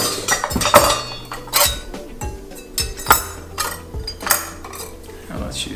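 Metal knives clink and clatter against each other and a hard surface in a kitchen, several sharp separate knocks with short ringing tails spread over a few seconds, close and fairly loud, no voices.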